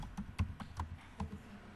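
Keyboard typing in a lecture room, a handful of irregular, fairly close key taps spaced out over a low background hum, with no talk.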